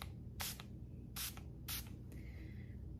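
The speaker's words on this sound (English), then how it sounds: "I'm gonna take my lace tint spray." Short hiss bursts from an aerosol can of lace tint spray in the shade Pecan, used while installing a lace frontal wig: four quick, close sprays at an even pace in a quiet room.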